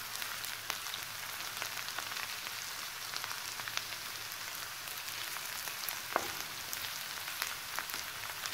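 Vegetables for a veg pasta cook over a flame in a pan, giving a soft, steady sizzle with faint crackles and occasional light pops, alone with no talk.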